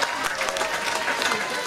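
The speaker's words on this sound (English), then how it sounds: "Round of applause for Jackie and Jasmine" Brief, steady crowd applause at a 2014 live concert in Perth, Western Australia, a short burst of many hands clapping at moderate loudness.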